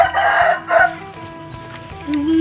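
A rooster on a Thai farm crows loudly and close by, one strong call followed by a second short burst, then fainter clucking and a thin sustained note as it trails off.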